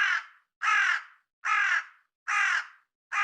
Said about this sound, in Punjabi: ਇਸ ਕਾਂ ਨੇ ਬੜਾ ਖੱਜਲ ਕੀਤੇ ਹੈ, ਬਾਰ ਬਾਰ ਬੋਲਦਾ ਪਿਆ